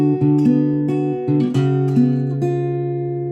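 Fingerstyle acoustic guitar picks the opening line of a song, with plucked notes and chord shapes ringing over a steady bass line at a measured, even pace, close and clear with no voices.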